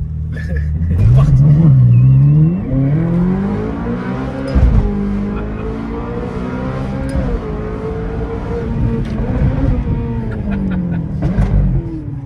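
A Ferrari with ceramic brakes accelerates hard and then brakes, its engine revving loudly up close with rising and falling pitch sweeps and a brief tire squeal, while people talk and exclaim over the sound.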